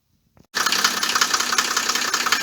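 A Mercedes W124 with an OM603 diesel engine, fresh injectors fitted, starts after a brief crank and settles into a loud, steady clattering idle close by with a rough knocking beat.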